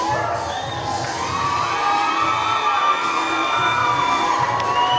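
Crowd at a women's boxing fight cheering and whooping loudly and continuously, shouts and yells rising together in a big hall.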